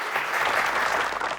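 Burst of applause from a crowd in a Hindi comedy courtroom sketch, dense rapid clapping, loud and close, sustained throughout before cutting off.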